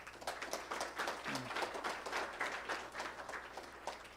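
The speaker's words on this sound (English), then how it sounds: "can we have another round of applause" Audience applause at a World Clubfoot Day CSR summit held in an Indian conference hall, a steady dense patter of many hands clapping at moderate, fairly distant level, continuous throughout with a brief low murmur partway.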